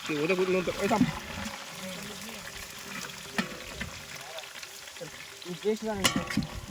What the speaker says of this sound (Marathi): कांदे टाकले मित्रांनो. आता बघा कांदे मस्त ब्राऊन ब्राऊन सर करपून घेऊ मित्रांनो त्याला.